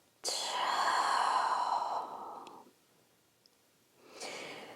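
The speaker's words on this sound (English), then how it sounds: "Let's take another full breath in. Complete breath out." A slow, full exhale during a beginner yoga stretch, a long soft breathy rush that fades out, followed by quiet and the start of another breath.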